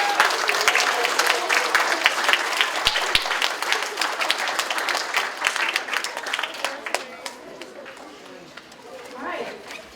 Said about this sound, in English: another big round of applause for our fifth graders